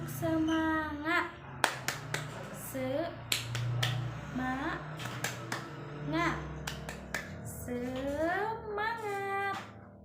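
Schoolchildren in a classroom play tepuk semangat, a rhythmic clapping game, with bursts of sharp hand claps in patterned groups between sung and chanted children's voices and a teacher speaking.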